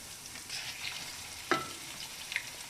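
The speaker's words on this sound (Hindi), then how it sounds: "अभी हम कीमा जो हमने लिया है ये डाल देते हैं" Chicken mince hits a hot pan and sizzles softly and steadily, with a sharp clink of a utensil partway through and a few light stirring taps.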